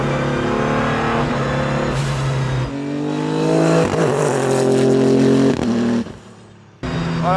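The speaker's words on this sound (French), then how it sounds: "Il y a la dump valve derrière qui est en train de souffler fort" A Renault RS01 fitted with a Pikes Peak kit revs hard and loud, its engine note rising and falling in sweeping pitches, with the dump valve hissing as it blows off between pulls and a sharp cut near the end.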